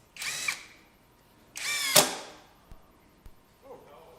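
A power driver sends a 1.25-inch coarse-thread pocket hole screw into pine in two short, loud whirring bursts, the second ending sharply as it seats, followed by a few faint clicks.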